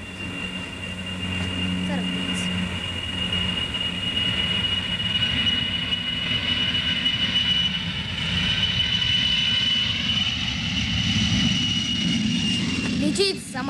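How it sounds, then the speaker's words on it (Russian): An airplane drones steadily throughout, a loud continuous engine hum with a sustained whine on top and a faint rumble beneath, unchanging until a brief disturbance at the very end. "Летит самолет, гудит самолет"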